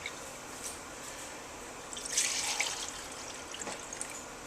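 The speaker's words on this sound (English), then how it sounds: "these measuring cups drip. So I'm dripping all over the jars anyways" Melted butter drips from measuring cups onto glass canning jars in a home kitchen during butter canning, giving soft, faint, irregular liquid patters and trickles against quiet room tone.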